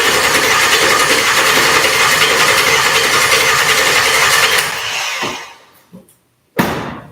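Small block Chevrolet engine, sitting for a week, turned over to pump up oil, a loud steady mechanical churning that cuts off near the end, followed by a short silence and a clunk.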